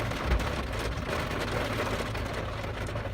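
Steady rain falls during a thunderstorm, a constant close wash of noise with low rumbling underneath and no voices.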